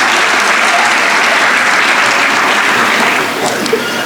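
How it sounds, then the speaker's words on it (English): An audience at the Al Amal Islamic School 2018 graduation claps loudly and steadily in a dense, even wash of applause that tapers off slightly at the very end. "Let's have a big hand of applause for Mazer."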